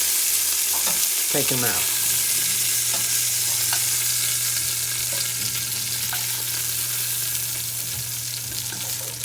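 Sausages browning in a hot pan while making meatballs for an Italian sauce give a steady frying sizzle throughout, with a few clinks and stirring knocks early on and a brief spoken remark over it.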